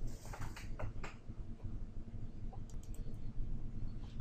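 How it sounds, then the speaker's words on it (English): A computer mouse clicks the Next button while installing Windows Server 2008 R2, a few sharp clicks over a low steady hum near the start and then faint background noise. "So click next."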